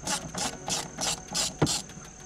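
An 8mm socket on a 3/8-inch drive ratchet backs out the air intake filter box bolts on a Ford EcoBoost, giving about six close, rhythmic bursts of sharp pawl clicking.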